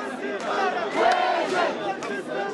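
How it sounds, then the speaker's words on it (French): A protest crowd outside the French embassy in Tunis chants slogans together, a loud, dense mass of voices rising and falling in rhythmic bursts with no single speaker standing out. "Au son de slogans scandés par la foule"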